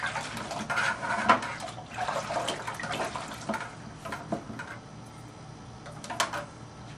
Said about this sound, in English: I just like to go around, rinse the sides down, rinse off my thermometer